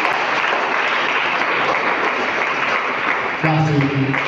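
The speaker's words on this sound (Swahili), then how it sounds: "Mpe Bwana Yesu makofi" A church congregation claps together in a dense, steady wash of applause, loud and continuous, with a sustained tone rising over the clapping near the end.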